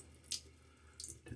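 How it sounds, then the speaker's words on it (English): Water from a tap is briefly added to a wet shaving brush during a shave, two soft splashing bursts against a quiet background. "I'm just going to add a little bit of water"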